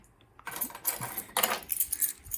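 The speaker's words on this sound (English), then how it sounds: "just gonna grab my keys" Metal keys jangling as they are grabbed near a fire alarm panel, a short bright rattling burst of clinks up close with no talk.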